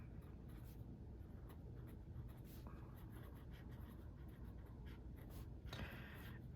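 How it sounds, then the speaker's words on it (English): A Kaweco Sport fountain pen with a double broad nib writing on paper, a soft continuous scratchy glide with faint stroke-by-stroke texture, close and quiet throughout. "This has a double broad nib, and this, so let's just write that down."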